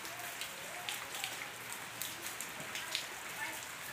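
Rain falls steadily outside a home in the evening, a soft continuous patter with scattered sharper drips, fairly faint and with no voices.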